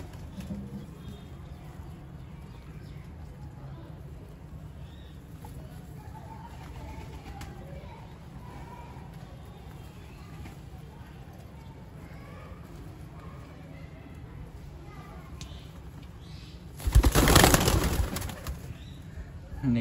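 Pigeons coo softly in a rainy Rawalpindi pigeon-keeping setting, low and faint beneath a steady background rumble, with a sudden loud noisy burst near the end.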